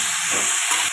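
Spices, potato and fish curry ingredients sautéing in a hot pan, a steady close sizzle and hiss filling the whole short moment with no voices.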